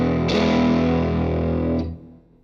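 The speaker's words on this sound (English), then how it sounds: "there's a little bit too much overdrive or distortion or whatever you want to call it going on" Electric guitar chords played through a JIMS 45 amp with heavy overdrive distortion ring out loud and sustained. A second strum lands near the end before the tone fades.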